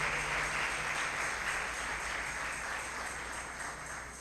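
A church congregation stands and applauds during a service, a faint, distant, continuous patter of many hands clapping over a low electrical hum, easing off slightly at the end.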